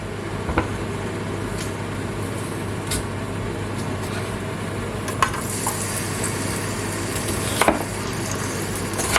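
Onions frying in hot oil in a pot, a steady low sizzle with occasional stirring clicks and scrapes, moderately close and without talk.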